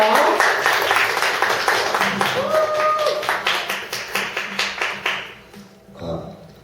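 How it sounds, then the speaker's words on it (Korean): Indoor audience at a Korean human-library talk applauds to welcome a speaker, a moderate burst of clapping that settles into a rhythmic pattern and fades out over several seconds. "큰 박수로 맞이해 주세요"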